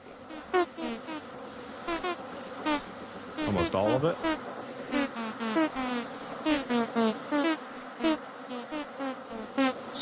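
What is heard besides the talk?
buzzing bees in video game Vintage Story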